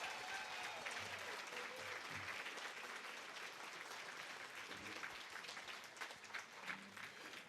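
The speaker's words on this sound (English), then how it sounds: "Round of applause for the board members." Applause from a seated crowd at a senior center breakfast event, honoring the board members as they stand; steady, dense clapping fills the room throughout, with faint voices mixed underneath.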